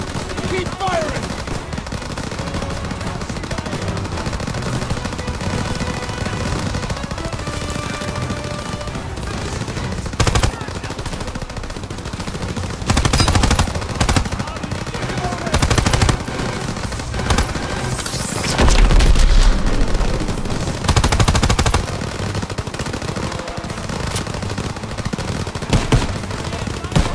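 Sustained machine gun and rifle fire in a World War 2 Call of Duty battle in Aachen, Germany, with dense rattling bursts and single shots, heavier loud volleys and booms breaking through, and shouting voices at times.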